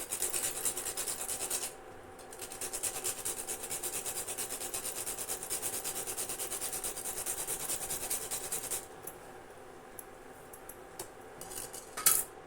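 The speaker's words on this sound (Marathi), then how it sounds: "जायफळ थोडंसं किसून घालते" Nutmeg grated by hand into simmering kheer seasoned with cardamom powder: a steady, close rasping scrape for several seconds, then a quieter stretch with a few faint scratches and a brief knock at the end.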